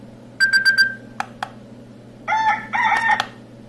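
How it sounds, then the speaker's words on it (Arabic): A CT-01 Islamic prayer alarm clock sounds its tone: a quick run of four electronic beeps, two short blips, then a longer warbling melodic chime, loud and close with no voices. "اقدر اتحكم في التون بتاع المنبه زي ما احنا اتفقنا، صوت المنبه"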